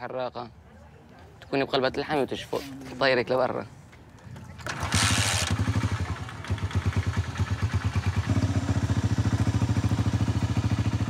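A motorcycle engine idles and runs steadily in a rough, rhythmic putter after a stretch of voices and clatter, loud and close, carrying a teenage and a young boy riding on the back.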